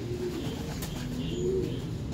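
A racing pigeon cooing steadily, a low soft repeated coo running throughout, close and clear against faint background noise.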